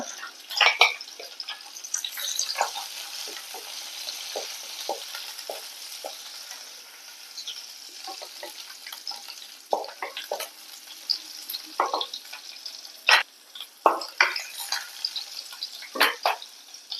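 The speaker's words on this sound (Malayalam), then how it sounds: "ഒന്ന് മൂത്തതിന് ശേഷം നമുക്ക് സവോള ഇട്ട് കൊടുക്കുക രണ്ട് പച്ചമുളക് ഇട്ട് കൊടുക്കുക" Sliced onions and green chilies frying in a pan, giving a soft continuous sizzle with scattered scraping stirs of a spoon against the pan, close and moderately quiet without any talking.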